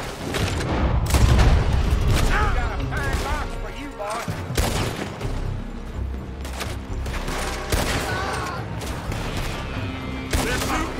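Repeated gunfire in Red Dead Redemption 2 as shots come from a building, dense volleys and booms running steadily throughout with a loud, busy battle texture and some voices mixed in.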